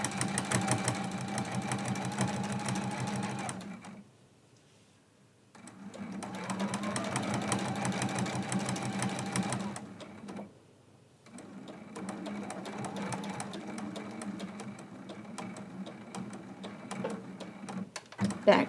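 A sewing machine stitches the corner of a quilt block in three steady whirring runs separated by short pauses, close and fairly quiet, with faint handling clicks at the end.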